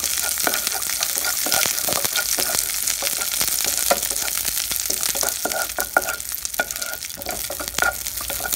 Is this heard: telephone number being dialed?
no